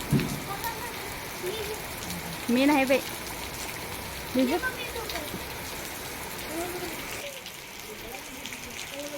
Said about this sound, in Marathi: पाऊस पडायला लागला आहे आमच्या इकडे